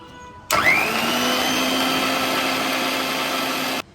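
An electric blender starts abruptly and runs steadily, grinding fresh mint leaves into a paste, with a loud, even whir and hum for about three seconds before cutting off.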